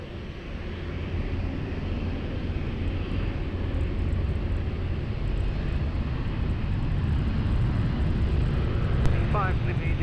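An airplane takes off at Lisbon Airport, a steady broadband engine roar that holds and slowly builds over the whole stretch, moderately loud and distant.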